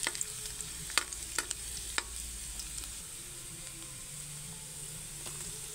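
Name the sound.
garlic frying in pan for chicken adobo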